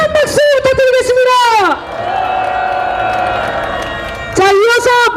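At an outdoor candlelight protest rally in front of the Supreme Court, a crowd applauds and cheers for a singer, a sustained wash of clapping and shouts between a man's amplified announcements.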